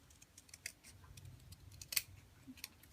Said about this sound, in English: I'm going to cut a tiny bit more off